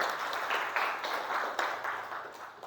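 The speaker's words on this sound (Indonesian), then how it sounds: "Beri tepuk tangan untuk Dwi dulu." Classroom applause during a Hindu religious education lesson: a group of students clapping together for nearly three seconds, a dense steady patter of many hands at moderate distance, with no talk over it.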